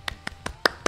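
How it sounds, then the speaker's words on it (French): A handful of hand claps in a small indoor space, five sharp, close claps at an uneven, quickening pace, the last ones louder, with no voices. "J'applaudis"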